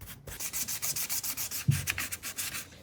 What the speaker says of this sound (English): So we got 320 sandpaper here, and this already had some like texture to it